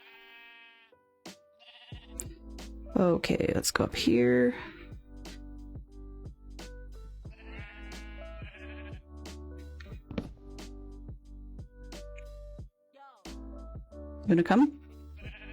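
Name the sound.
sheep bleating on a farm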